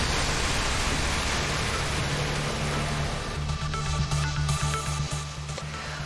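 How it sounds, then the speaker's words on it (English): Heavy thunderstorm rain pours down in Calgary, a dense, loud, steady hiss of downpour with low rumbling beneath, continuous throughout without talk. "the rain came down fast and hard for a short time"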